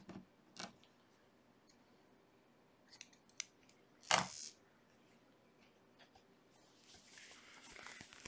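Scissors snip the yarn tail of a finished crochet grit stitch hat: a few faint cuts early on, then one sharp, close, prominent snip midway, with quiet rustling and handling afterward.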